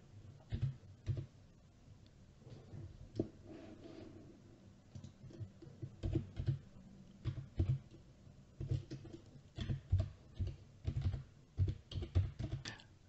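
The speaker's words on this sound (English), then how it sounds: "And when you're done typing" Computer keyboard typing, with light clicking keystrokes in irregular bursts that grow busier toward the end, close and fairly quiet with no talk.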